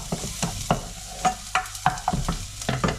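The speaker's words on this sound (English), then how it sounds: "I'll start pan frying the bass very soon" Bass fish sizzles loudly in a hot pan, with crackling bursts and scraping stirs at an irregular rhythm, no talking.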